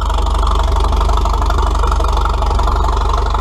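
An engine at a 2017 Nowthen show runs near wide open throttle, a loud, steady, close drone with a fast rhythmic pulsing beat throughout and no voices.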